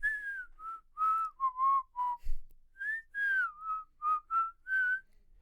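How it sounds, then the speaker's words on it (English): A person whistles a melodic movie score tune alone, a clear, close series of sustained and gliding notes in short phrases with brief pauses between them. "Like the whistling, because I will whistle that while I'm working."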